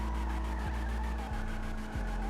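Engine and tire noise from a Karin Asterope sedan during a drivetrain test in GTA Online. A steady, loud engine note runs under squealing tires, and the revs drop at three evenly spaced gear shifts.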